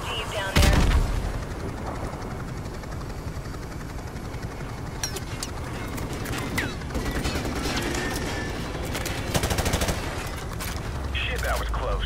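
Bursts of rapid automatic gunfire rattle through a Call of Duty: Modern Warfare combat scene, with repeated volleys, mechanical clatter and a sharp blast over steady background noise.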